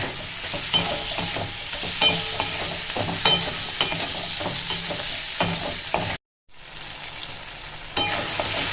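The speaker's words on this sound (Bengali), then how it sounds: "এবার এইটাকে আরেকটু কষিয়ে নেবো, চিংড়ি মাছটা যেন ভাজা ভাজা হয়ে যায়।" Shrimp fry in spiced masala while being stirred, constant oily sizzle broken by rhythmic spatula scrapes, up close; a brief cut to silence interrupts before the frying resumes.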